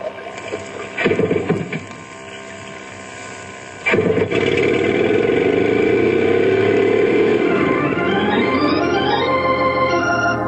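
A motor boat engine starts with a couple of bursts, then revs up and runs loudly and continuously, its pitch climbing as it accelerates.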